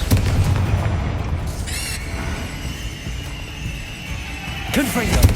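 A Confringo spell blast in Hogwarts Legacy erupts as a loud, rumbling boom that fills the whole clip, with sharp whooshing flares near the start and again at the end.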